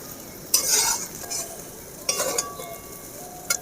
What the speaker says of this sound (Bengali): এবারে আমি আস্তে আস্তে চিকেন আর ডিমের সাথে পাস্তাটা নেড়ে নেব ভালো করে।